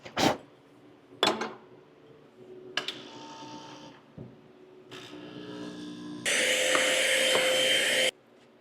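Coffee beans are ground in a grinder in a home studio setting, starting with a few short clattering bursts and handling noises, then a loud, steady high-pitched whirring grind lasting about two seconds before stopping, heard close up.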